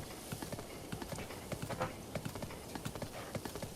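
Horse hooves clip-clop in a steady, fairly close walking rhythm along a road in a blocky quest game, with faint background game sounds and a brief whinny-like tone mixed in.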